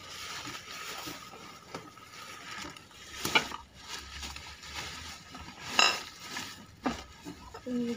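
Glass bottles clink and clatter as garbage is sorted by hand, a steady jumble of handling noise broken by a few brighter knocks and clinks, fairly close, with no speech.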